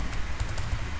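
Quick, light keystrokes on a computer keyboard while coding an Angular 11 app, a brief close patter of taps over a low background hum.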